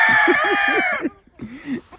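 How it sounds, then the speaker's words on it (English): A rooster crows loudly and close by, a drawn-out call followed by softer clucking. "Majestic rooster."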